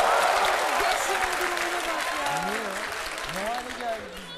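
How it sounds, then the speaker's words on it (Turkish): A television studio audience on a Turkish talk show applauds loudly, with sustained clapping that slowly tapers off while a host talks over it. "Para diyenler alkışlasınlar."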